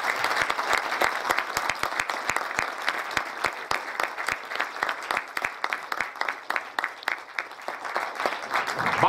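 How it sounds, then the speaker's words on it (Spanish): Audience applause at a 2014 tribute ceremony honouring Benigno Ballón Farfán, steady dense clapping from a crowd that carries on alone for the full stretch without fading. "acompáñenme a dar un fortísimo aplauso a don Benigno Ballón Farfán"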